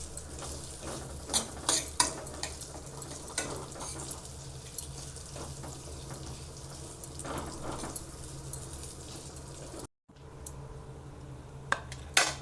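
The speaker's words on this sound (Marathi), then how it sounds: "याला एकजीव करूया चांगला आता गोळा." Date mixture for a Khajur dry fruit roll worked into a ball in a pan: scattered light spoon clinks and scrapes against metal, quiet and intermittent over a steady hum, with a brief dropout near the end.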